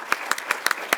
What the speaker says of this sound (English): will you please join me in another round of applause for Dr.